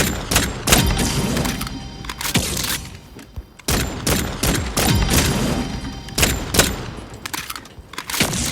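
Dense, rapid video-game gunfire in the Carnival Shoot Out level, loud overlapping bursts and volleys that keep going almost without a break, with only a short lull partway through.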